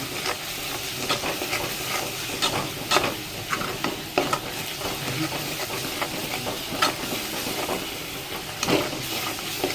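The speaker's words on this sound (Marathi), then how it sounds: "फास्ट गॅस करून हलवून घेऊया." Egg masala with green masala fries in a pan on a high gas flame while a spoon stirs it, giving a steady sizzle and hiss broken by regular scraping strokes, close and fairly loud.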